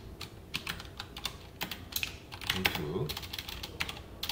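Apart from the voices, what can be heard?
typing on a computer keyboard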